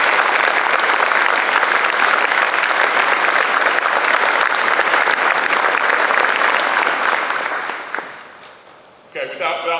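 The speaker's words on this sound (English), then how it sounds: "Let's go ahead and give them a quick round of applause." A large audience at a Marine Corps battalion remembrance ceremony, with a band present, applauds loudly and steadily for about eight seconds before the clapping thins and fades, followed by a brief stir of sound.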